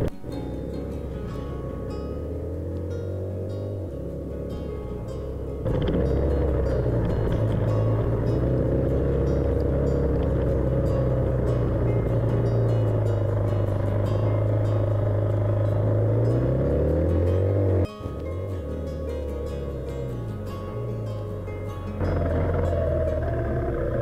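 An enduro motorcycle engine drones steadily under load climbing uphill in the Lombardy Alps, its pitch rising and falling with gear changes, loud and close throughout.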